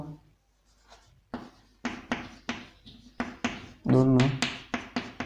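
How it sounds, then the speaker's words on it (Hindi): Pen or marker writing during a Hindi class 9 geometry lesson on Heron's formula, a run of short scratchy strokes in quick bursts, close and clear, with a brief voiced sound partway through. "तो यहाँ पर लिखते हैं"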